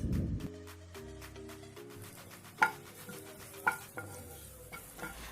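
Cumin, ginger and green chili pieces frying in oil in a pan, a soft sizzle under stirring scrapes, with a few sharper clinks of a spoon against the pan.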